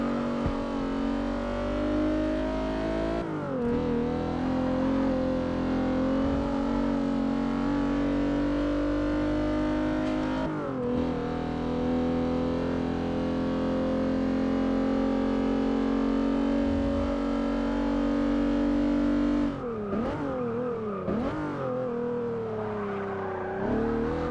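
A race car engine in Forza Motorsport 6 holds a loud, steady drone with brief dips and rises as the revs shift, with a faint tyre squeal in places and no voices.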